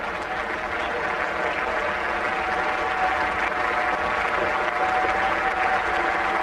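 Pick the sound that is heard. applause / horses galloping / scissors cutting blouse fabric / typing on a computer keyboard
applause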